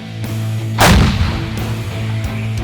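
A single heavy, booming blast from a CAESAR 155 mm self-propelled howitzer with a sharp onset and a long rumbling decay, followed by fainter echoing thumps over a steady low engine hum.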